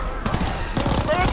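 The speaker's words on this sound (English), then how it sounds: "I'm using my pistol" Pistol fire in Call of Duty WW2, several quick shots in a short burst mixed with game noise and a talking voice, close and fairly loud.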